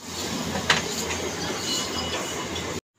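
Train at a station near Sonarpur, heard from on board: a steady rumble of rail noise with a brief sharp squeal or clank near the start, continuous and fairly loud, then cut off abruptly.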